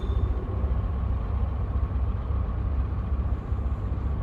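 Twin radial engines of a Handley-Page Hampden bomber in a flight simulator on descent drone with a steady, rough low rumble and a faint higher hum, continuous and unchanging.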